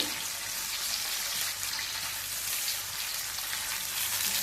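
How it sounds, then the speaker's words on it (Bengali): Tomatoes and onions sizzle steadily in a hot pan while being stirred, a continuous close hiss with faint scraping underneath. "এখন একটু নেড়ে চেড়ে নিব"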